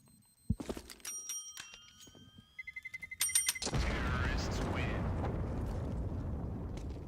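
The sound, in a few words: a bell being pressed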